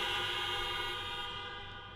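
Horns blaring together from a crowd at a lecture, a sustained loud toot filling the room for about two seconds and fading slightly toward the end, with no talking.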